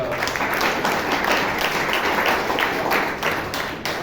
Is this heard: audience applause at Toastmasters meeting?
yes